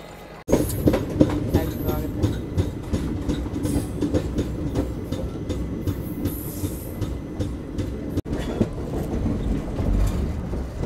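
The Kanchanjungha Express rumbles steadily along the rails near Malda Town with rhythmic clickety-clack of wheels, a constant low roar, heard from inside a 3rd AC coach.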